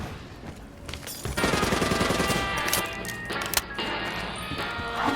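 Gunfire and bursting zombies in the Black Ops Zombies video game, a dense, loud rolling clatter of rapid shots and crunching impacts that kicks in after a quieter opening and continues almost without pause.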